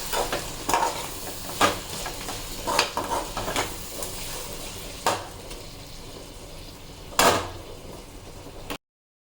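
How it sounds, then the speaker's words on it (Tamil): Ground masala and egg sauté in a pan under a low, steady sizzle, punctuated by about half a dozen sharp scraping strokes of a spatula at irregular intervals before the sound cuts off abruptly. "இது கொஞ்சம் நேரம் வதங்கட்டும்"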